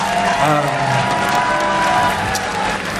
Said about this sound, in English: So big applause to Stephano for doing a really great job